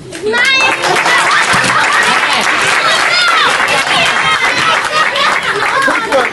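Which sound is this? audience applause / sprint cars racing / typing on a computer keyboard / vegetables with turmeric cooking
audience applause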